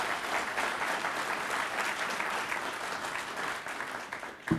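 A gathered audience in Montrose applauds guests from Tri-State, a continuous crackle of many hands clapping that holds steady throughout and begins to thin out just before the end.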